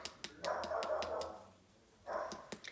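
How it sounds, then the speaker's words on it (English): A dog at a beach house gives a few faint, distant barks and yips in two short bursts, separated by a quiet gap. "We brought the dog."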